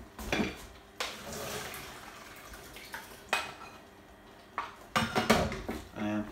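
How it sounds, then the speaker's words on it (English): Boiled peas being drained in a home kitchen, with splashing water and clanking pot and metal sounds in a few sharp bursts over a running-water wash, close and fairly loud. "We're going to drain them."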